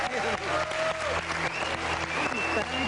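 Studio audience applause on a quiz game show, a steady wash of clapping throughout, with a host's voice talking over it.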